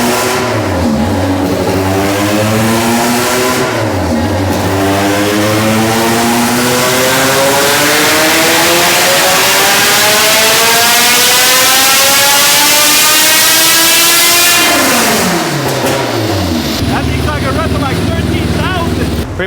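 A 400hp all-motor K-series Honda Civic engine screams through repeated dyno pulls, revs climbing steeply to a high-pitched wail, dropping, then climbing again in a long sustained run before cutting back to idle, loud and close.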